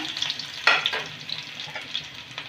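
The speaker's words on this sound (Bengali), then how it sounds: "একটু রসুনটা নেড়ে নেব" Garlic fries with cumin seeds in hot oil as a spoon stirs it, producing a soft sizzle with scattered scrapes and taps against the pan, close and fairly quiet with no talking.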